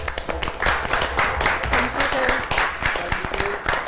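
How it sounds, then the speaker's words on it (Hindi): Studio audience claps for the winning makeup artist and his bride on a Pakistani TV show, a loud, dense run of applause with sharp hand slaps, while voices and a sustained tone carry on over the clapping. "तालियां"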